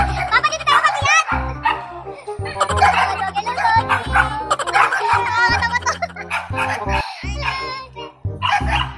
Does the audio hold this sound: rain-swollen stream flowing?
no